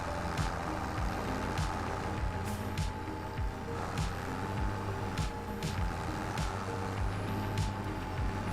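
A tractor engine in Farming Simulator 25, on a farm in Poland, drones steadily and loud with low rumbling harmonics, while regular beeps and clunks recur throughout and no one speaks.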